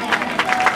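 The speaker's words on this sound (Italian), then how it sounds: "Applauso fortissimo" Applause from a crowd at a dance competition at Chalet Onda Blu in Falerna, a brief burst of dense, steady clapping with slight swells.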